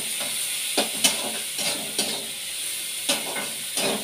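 Hog plum and salt stirred in a karahi over a continuous sizzling hiss, with a spoon scraping the pan in several irregular strokes, close and alone.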